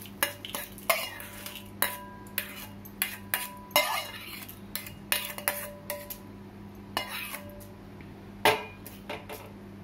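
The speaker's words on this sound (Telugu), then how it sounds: "మిక్స్ చేసుకోవాలి. చట్నీ ఒక గిన్నెలోకి తీసుకోవాలి." Tempered groundnut chutney is stirred and scooped into a bowl. A spoon scrapes and clinks against the dish in a steady series of sharp metallic taps throughout, close and fairly loud, with no voices.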